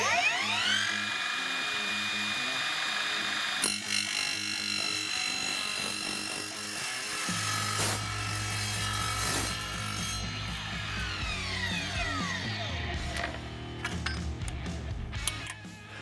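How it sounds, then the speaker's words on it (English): An Evolution 40V cordless miter saw slices through 1/8 inch aluminum with a loud, ringing high-pitched whine and a harsh grinding cut that changes pitch through the stroke, then the blade spins down near the end. "you can see it made a nice clean cut in this 1/8 inch thick aluminum"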